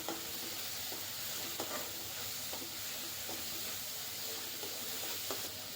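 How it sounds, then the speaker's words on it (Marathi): Spices being stirred in a frying pan, a steady close sizzle with soft scraping strokes of the spoon recurring every second or so. "आता हे सर्व मसाले मी आता मिक्स करून घेते."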